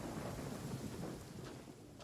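Storm noise with rain and low thunder rumble, a steady loud wash throughout with no voices.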